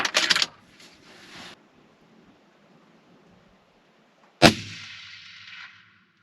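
A single close, loud gunshot rings out at a private rural shooting property, with a sharp crack and a long fading echo, following an earlier muffled burst of noise and a quiet stretch.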